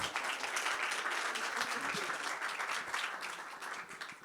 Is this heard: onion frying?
no